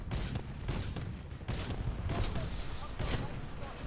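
Rapid bursts of gunfire in the video game Titanfall, with repeated sharp volleys recurring across the clip at close range while a voice talks over the shooting.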